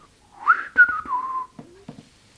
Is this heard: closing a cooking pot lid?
no